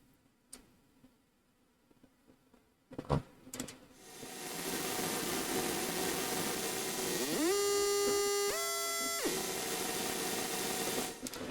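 A synth layer run through a granular effect with automated grain size, starting with sparse clicks and bursts, then a sustained buzzing, glitchy texture with stepped, pitch-sliding tonal artifacts.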